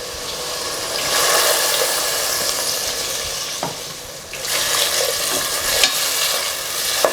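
Mutton curry with roasted ground masala and added water being stirred in a pan, with continuous bubbling sizzle, scraping spoon strokes and a few sharp clinks against the pan, close and fairly loud.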